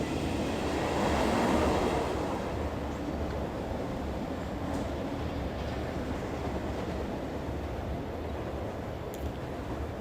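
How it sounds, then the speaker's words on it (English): Springfield monorail train in The Simpsons: Tapped Out video game, a steady rolling rumble and hiss of the passing train, continuous and fairly loud with no talking. "Springfield monorail. Kind of futuristic station."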